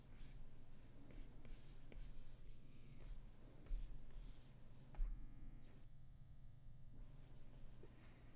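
Stylus strokes on a tablet while sketching in Procreate Dreams, a faint continuous scratching and tapping against steady low hum, with a couple of slightly sharper taps midway.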